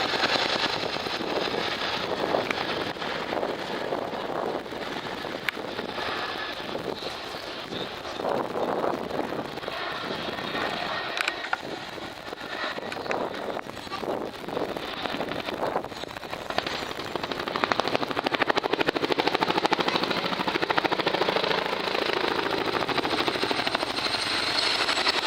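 Display aircraft performing a wingover at the RAF Cosford Air Show, a steady broadband engine roar that swells and fades across the whole stretch with wind buffeting, loud and continuous, no talk.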